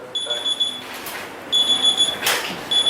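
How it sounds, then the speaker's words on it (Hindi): An alarm beeps steadily during an online math class, sounding in two repeated bursts of high electronic tones with a brief gap between them, loud and close, with a faint voice in the background. "इसमें कुछ अलार्म बंद लगता है, बंद भी नहीं होता"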